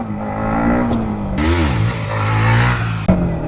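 A Yamaha MT15 motorcycle engine revs up hard, its pitch climbing and dipping through several quick throttle blips, loud and close, with a sharp clunk near the end as the bike prepares for a wheelie.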